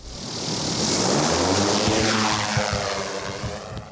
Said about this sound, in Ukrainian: Дрон на поготові, час працювати та шукати позиції окупантів.